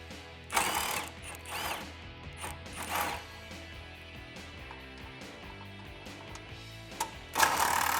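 An 8mm socket on a ratchet clicks in quick bursts while factory fog light bolts come off a 2009-2014 Ford F150, with rapid pawl ratcheting repeating several times close up among faint workshop clatter.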